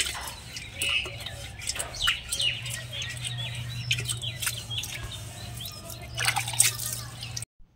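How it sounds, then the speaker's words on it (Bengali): Birds chirp and call in scattered bursts on a morning, mixed with dripping water and clinking from nearby washing, at moderate distance. "বসন্তকাল ছাড়া অন্য সময় পাখির ডাক এত সুন্দরভাবে শোনা যায় না, তাই না?"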